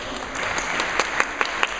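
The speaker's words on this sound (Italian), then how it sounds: "benvenuto ad Alicia Koulibaly di Migrants, un applauso," An audience at an Italian public debate welcomes a guest with brief, steady applause, a dense wash of clapping with a few sharper claps standing out.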